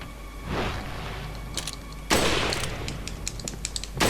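Gunshots in the video game Resident Evil 4, a few close, loud reports with a sharp burst about halfway through, mixed with clicks and game effects and no talk.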